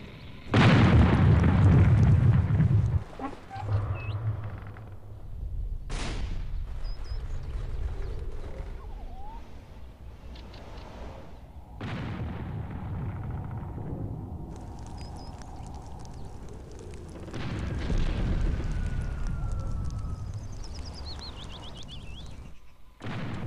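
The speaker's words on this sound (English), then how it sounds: "Load rockets! Fire! Load rockets!" Rocket salvos firing and bursting in the airship combat game Air Buccaneers, with a loud opening blast followed by repeated sharp booms and rumbling impacts over a steady engine and wind drone.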